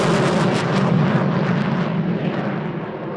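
Eurofighter Typhoon FGR4 jet at RAF Coningsby, a loud sustained roar with broad rumble and hiss, steady then easing slightly, no voices.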